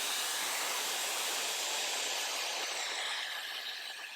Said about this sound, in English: I'm gonna take my blow dryer on a cool setting and I'm gonna blow dry the entire hairline